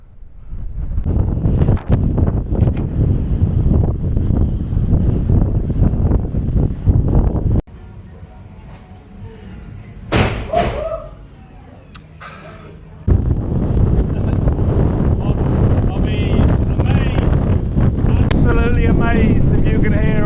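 Strong wind buffets the microphone on the Beachy Head hilltop along the South Downs Way, a loud roaring rumble that drops briefly mid-way before gusting back hard, with someone talking through it.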